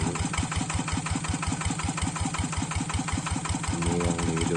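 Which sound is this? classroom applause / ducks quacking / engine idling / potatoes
engine idling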